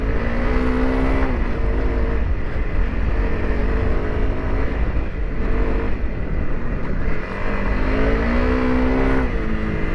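A Honda CRF300L Rally motorcycle, built up as an adventure bike, revs hard while being ridden off-road, its single-cylinder drone rising and falling in pitch over wind noise, loud and continuous with no talking.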